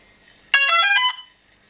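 A camera drone powers on with a short bright electronic beep sequence of rapid tones lasting about half a second, close and clear against near silence.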